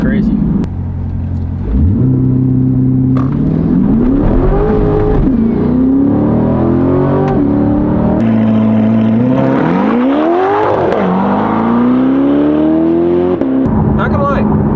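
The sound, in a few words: Corvette C8 Stingray mid-engine V8 driving and accelerating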